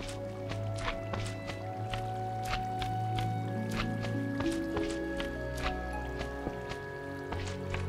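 Water streams in the Minecraft video game, soft liquid splashes and drips recurring at a steady, step-like pace, faint and close, with sustained tonal notes humming underneath.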